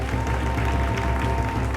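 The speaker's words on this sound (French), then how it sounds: "Applaudissez pour ça." A studio audience on a live broadcast applauds a new song, with continuous clapping and a low hum running beneath it.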